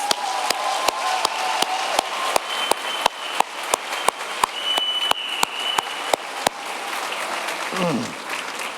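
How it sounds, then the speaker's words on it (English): Graduation audience applauding two retiring teachers, heard as a fairly quiet, evenly spaced series of sharp claps in a steady rhythm, with voices and murmur underneath before the clapping stops near the end. "Could we give them one round of applause?"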